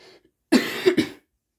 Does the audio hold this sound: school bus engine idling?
no